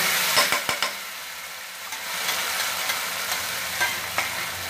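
Spinach purée for palak paneer goes into a hot pan and sizzles softly, with a few scraping stirs and clinks at the start, then a steady frying hiss.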